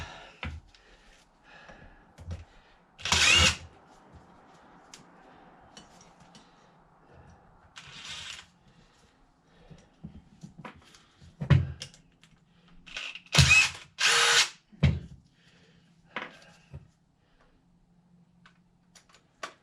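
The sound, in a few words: impact driver removing screws from Toyota Celica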